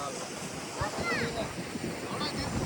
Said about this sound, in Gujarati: પવન કેવો એક નંબર છે.